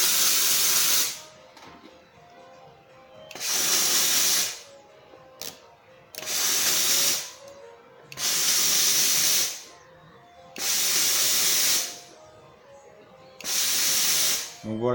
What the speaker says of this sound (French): il faut vraiment tirer tout doucement et régulièrement mettre un petit coup de vapeur